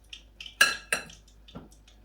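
Shrimp tossed around in a bowl while being prepped for frying, giving a few sharp clinks and rattles of dishware in uneven bursts, with the two loudest hits close together near the middle.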